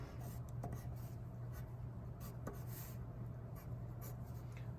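Short, soft pencil strokes on paper as plus-shaped window frames are drawn for an old house silhouette, a close scratchy scribbling that repeats steadily with no talk.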